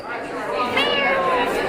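A young girl imitates a cat's meow with her voice, producing a short, rising and falling nasal mew at close range.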